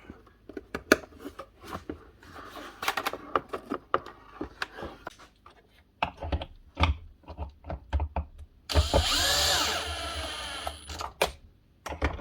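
A power screwdriver drives screws back into a Bosch GAS 1200L vacuum cleaner casing during repair, amid clicks and handling knocks, ending in a sustained whirring burst with a rising and falling motor pitch, close up; a voice talks briefly.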